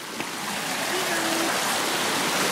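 River water flows in a steady, broadband rush that fills the whole moment, close and continuous, with a faint brief tone passing through it.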